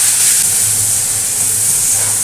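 Chopped onion hits hot oil in a pan while eggs and chicken are being cooked, giving a loud, steady, close sizzle and hiss that holds throughout with no talk.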